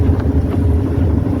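A speedboat races along the river at Kashi, its engine giving a steady, loud, low drone mixed with rushing wind and buffeting against the microphone throughout.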